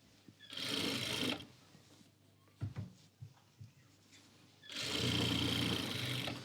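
A sewing machine stitches a pheran in two close, steady bursts, the first about a second long and the second longer, separated by soft clicks and fabric handling.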